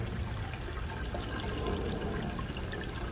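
Water from outdoor fish tanks draining down into a 2-inch pipe, a steady low rushing gurgle that runs on without a break, fairly quiet and alone.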